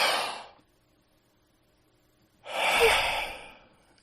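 A person gasps for air twice, a sharp loud intake followed by a longer, heavier rasping breath after a pause of nearly two seconds, close and alone.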